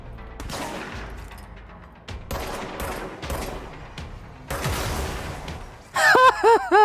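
Gunfire in the action game Control, loud bursts of rapid shots in separate volleys with short gaps between them, closing on a bright ringing effect.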